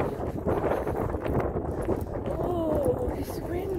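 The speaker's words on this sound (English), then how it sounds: "Oh, it's windy." Steady wind buffets the microphone in a continuous low rumble while a person talks over it outdoors.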